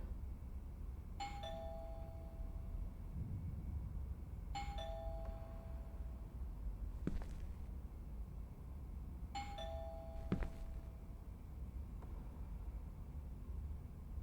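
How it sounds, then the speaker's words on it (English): A doorbell rings three times in the indie horror video game Within, each ring a clean electronic two-tone ding-dong, spaced a few seconds apart over a steady, quiet background hiss. "I should just ring the doorbell, see if he answers."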